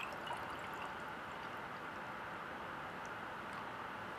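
Juice pours from a carton in a steady, smooth continuous stream, a soft even rushing sound with no breaks.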